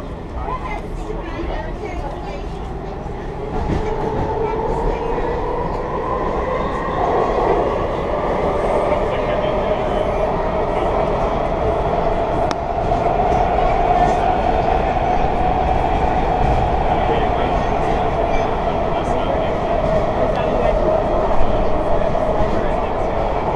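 A WMATA Rohr 1255 subway car on the Red Line runs through a single-tube tunnel, a steady loud rumble with rising whine and faint clickety-clack; a voice speaks under the noise.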